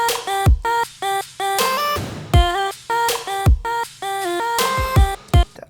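Chopped vocal samples rearranged into a future bass melody, a bouncy sequence of short pitched vocal stabs over punchy kicks and bright snare hits, loud and rhythmic, with no talk.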